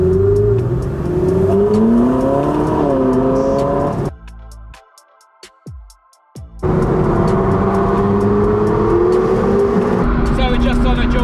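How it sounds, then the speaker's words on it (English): Ferrari sports car accelerating hard on a dual carriageway, its engine note climbing and shifting loudly, then cut off by a short muffled lull before the roar resumes at full strength. "it's giving the car a bit of a blast, let's put it that way"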